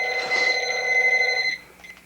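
A telephone bell rings with a steady, bright metallic tone for about a second and a half, close and loud, then cuts off, leaving only a faint trace of room noise.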